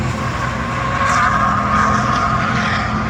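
A Crown Vic race car running laps at Bristol Motor Speedway, a loud, steady engine roar close by with a sustained tone and brief rising swells as it passes.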